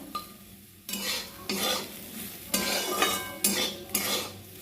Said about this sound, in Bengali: উচ্ছেটা আমি হালকা করে ভেজে নিয়েছি